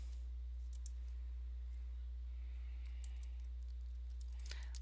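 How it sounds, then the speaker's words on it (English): Faint, sparse keyboard typing while a heading is entered in Microsoft Word, soft scattered clicks over a steady low electrical hum. "I'll type in a heading of correlating"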